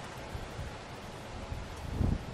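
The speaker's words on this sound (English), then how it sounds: "it's a little windy" Outdoors, wind rushes and buffets the microphone in a steady broadband roar with low rumbling gusts, and no voices are heard.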